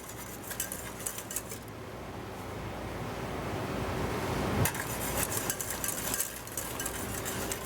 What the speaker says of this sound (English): You can stop stirring for a few seconds